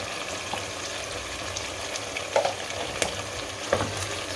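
Yogurt being stirred into chicken gravy in a pan over a high flame for Mughlai chicken malai boti, with a steady close sizzle and a few sharp scrapes and clinks of the spoon against the pan.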